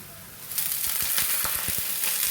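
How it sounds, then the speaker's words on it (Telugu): A glass of water poured into a pan of well-fried onions sets off a sharp, loud sizzle and hiss, with a quick series of crackling bursts over a few seconds. "ఇప్పుడు ఇందులోకి నేను ఒక గ్లాస్ వాటర్ వేస్తున్నానండి."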